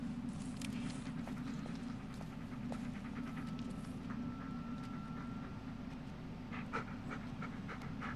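A dog in the Blair Witch game pants steadily and quietly at close range over a constant low droning ambience, with faint scattered footsteps and rustles.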